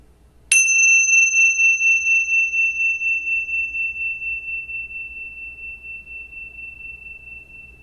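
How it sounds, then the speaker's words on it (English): One meditation bell is struck once and rings with a clear, pure tone. It decays slowly and pulses gently over several seconds in a quiet room. "and hear the bell."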